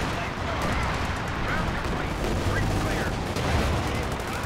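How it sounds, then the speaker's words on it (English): An artillery barrage shells an area in the Company of Heroes 2 video game, dense overlapping booms and gunfire forming a loud continuous rumble, with a voice talking over it. "Just trying to shell this area where all of the Axis infantry was earlier. With both the pack-outs, heat barrage as well."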